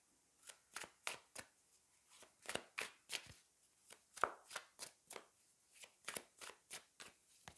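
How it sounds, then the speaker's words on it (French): Victorian-themed tarot cards being shuffled by hand, a long run of crisp, rapid riffling snaps in a fairly regular rhythm, soft and close with no voice over it. "on va prendre le tarot des filles victoriennes. Je vais prendre 3 cartes"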